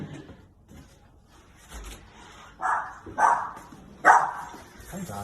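Dogs give three or four short, moderately loud barks in quick succession, mixed with faint background voices and rustling indoors.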